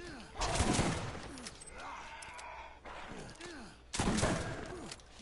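Gunfire in Borderlands comes in loud broadband bursts, one near the start and another near the end, over quieter game noise and creature groans, with no talk.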